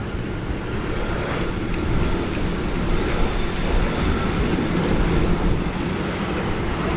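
A jet airliner landing at Sydney Airport in the rain, with a steady, loud broadband roar of engines and rushing air that holds constant for several seconds and no talking.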